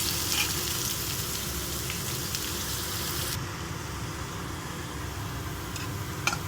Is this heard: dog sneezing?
no